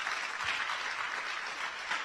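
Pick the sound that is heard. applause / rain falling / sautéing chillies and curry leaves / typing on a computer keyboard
applause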